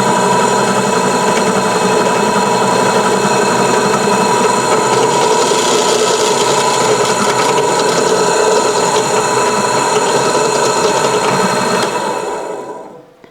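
A restored drill press motor runs with a loud, steady whirring hum and rattly vibration, continuous until it cuts off near the end.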